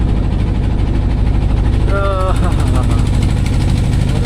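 Steady low engine rumble of idling motorcycles, close by, with a voice speaking briefly over the drone.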